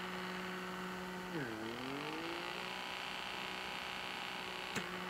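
A beauty vacuum blackhead remover hums steadily on sensitive facial skin, its motor pitch dipping and sliding back up as the nozzle presses and glides, with a faint click near the end.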